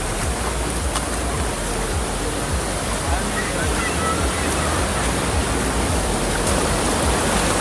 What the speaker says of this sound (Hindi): guys finally on the ब्यूपरी waterfall